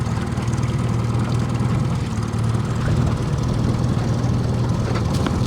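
A fishing boat's engine idles steadily at low revs while anchored off Horseshoe Cove, a continuous low rumbling drone with a faint airy hiss above it, holding even throughout with no talk.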